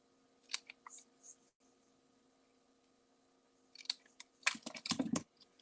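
Scissors snip through patterned paper for a simple handmade card: a few crisp, close cuts early on, a quiet pause, then a denser cluster of quick snips near the end.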